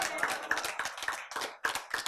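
An audience claps hands together in steady time during a lecture on genes, giving several sharp, evenly spaced bursts of clapping over about two seconds, close and fairly loud.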